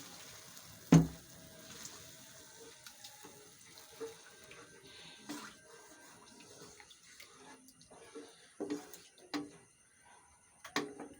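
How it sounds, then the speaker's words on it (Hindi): Water poured from a glass into egg gravy cooking in a pan over fried spices, heard as faint, brief splashing pours between quiet gaps, with no talking. "अब इस टाइम पे हम 1 गिलास सिर्फ पानी का इसमें ऐड कर देते हैं।"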